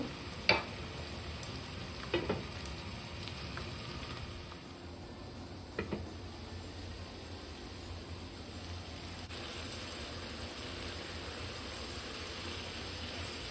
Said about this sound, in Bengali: এখন মশলাটা কষানিও